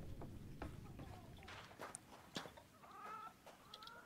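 Chicken clucking in the pre-alpha video game REKA, soft scattered clucks and rustling steps at low level, with a person talking intermittently.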